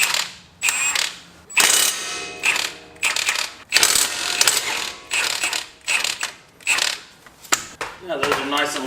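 A ratchet breaking loose the 19 mm caliper bolts on a 2007 Nissan Xterra, bursts of rapid clicking repeated about eight times with brief pauses between strokes, loud and close.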